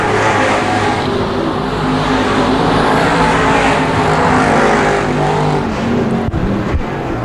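Street stock cars race on a dirt track during a heat race, their engines roaring in a loud, continuous, blended drone as the pack circles nearby, with faint clanks near the end.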